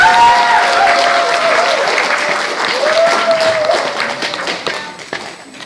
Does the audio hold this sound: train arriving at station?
no